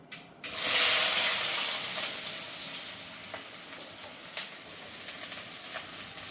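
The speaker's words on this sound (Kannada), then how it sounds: "ಸೊ ನಾವಿವಾಗ ಸಾಸಿವೆ ಸೌಂಡ್ ಕೇಳಿಸ್ತಾ ಇದೆ" Mustard seeds hit hot oil in a pan while making egg rice and burst into a loud sizzle, which settles into a steady close hiss with scattered sharp pops and crackles.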